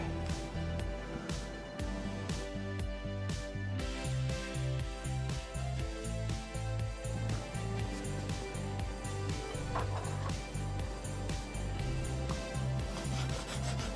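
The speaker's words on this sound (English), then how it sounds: "Just a quick deburr on both sides." A hand file rasps back and forth deburring both sides of a small part for an animatronic wing build, a rhythmic series of close, repeated scraping strokes over faint background music.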